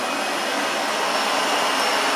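A PREMBOT P3 robot vacuum cleaner runs on its high suction setting, producing a loud, steady, airy roar of motor and fan noise up close, without any speech.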